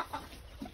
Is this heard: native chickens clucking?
yes